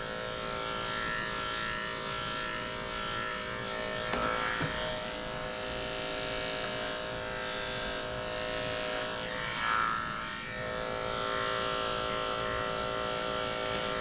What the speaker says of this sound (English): for having to shave them